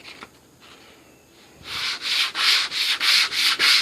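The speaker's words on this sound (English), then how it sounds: "220 grit sandpaper, and I'm going to sand" 220 grit sandpaper is rubbed over a wooden clock in steady back-and-forth strokes, about seven close, even rasping swipes after a quiet start with small handling noises.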